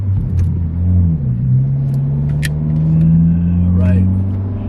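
A tuned 11th-gen Honda Civic Si pulls away under light throttle, its engine a steady, close cabin drone that rises gradually in pitch, with road rumble underneath.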